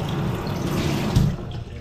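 Water pours steadily from a leaking rubber seal at a building under interior and exterior renovation, a continuous splashing wash that stays fairly loud and even, swelling briefly near the middle.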